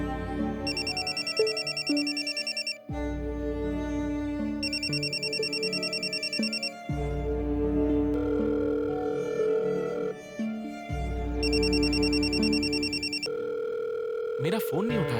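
An unanswered phone call rings repeatedly in a TV drama, with regular bursts of ringback tone separated by short gaps over a musical background, ending without pickup.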